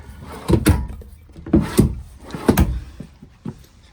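Drawers in a 2020 Coachmen Prism 24EE RV bedroom being pulled open and pushed shut, several close wooden thumps and sliding knocks in quick irregular succession, with no voices.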